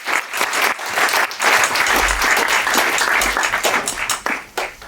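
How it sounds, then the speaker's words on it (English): A conference audience breaks into loud, sustained applause. Dense clapping continues steadily for several seconds with no pauses. "massive round of applause for Clive De Carle."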